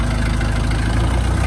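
The engine of a 3-ton wooden boat runs steadily at idle, a loud, even low rumble with a rapid regular pulse and no pauses, heard up close.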